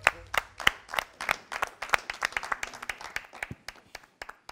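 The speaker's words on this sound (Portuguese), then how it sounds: "Aplausos" Audience applause at a rap battle, a burst of sharp, separate handclaps from a modest crowd that starts dense and thins out gradually, close and crisp with no one talking over it.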